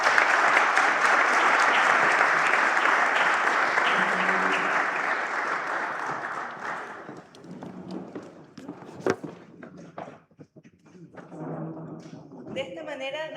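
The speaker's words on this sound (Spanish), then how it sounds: "Un aplauso para el panel" An audience applauds the panel at the close of a seminar on Chile as a financial services exporter. Loud, dense clapping fills the first half, then thins and fades as footsteps, bumps and soft voices take over in the room.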